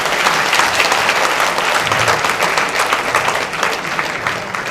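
Loud, sustained applause from a large crowd at a film audio launch event, a thick continuous wash of clapping with no pauses.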